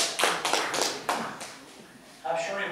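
At a Wirral Council scrutiny committee meeting, a handful of audience members clap in a sparse, uneven patter that soon fades, with people talking in the room.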